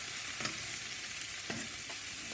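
Onions and steak sizzling on a hot soapstone in a Big Joe grill for a Philly sandwich, a steady close hiss of frying broken by a few scraping stirs as they are mixed together.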